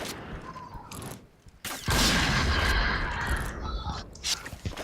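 Gunfire in the Point Blank video game on the Burning Hall map, a dense loud burst of shots starting about two seconds in and continuing, with quieter game noise before it and no talk.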